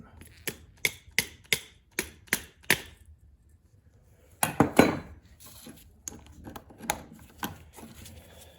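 A HiPA carburetor is tapped into place on a lawn mower engine, eight sharp metallic taps in a steady rhythm, then a cluster of louder clattering knocks and a few softer taps, with a voice speaking quietly underneath.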